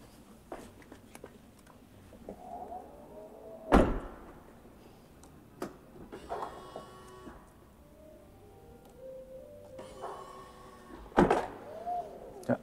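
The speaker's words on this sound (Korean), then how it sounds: "이번엔 또 카드키로 한번 문을 열어보겠습니다" Door of a BMW unlocked and opened with a card key: a sharp latch clunk, later a second release, with soft electronic chimes and whirring as the car's power comes on, recorded close in a quiet setting.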